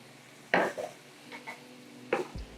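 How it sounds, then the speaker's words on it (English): Shredded beef and cabbage being stirred in a pan with a spatula, producing two distinct scraping clatters with lighter taps between, close over a faint steady background. "Let's combine all of that together."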